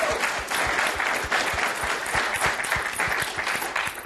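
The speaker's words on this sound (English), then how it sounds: "we want to give him a round of applause" Steady applause from a crowd at a press conference marking a rapper's release from prison, even clapping running throughout without pause and with no speech over it.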